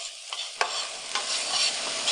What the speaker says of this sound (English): So I'm going to stir that around.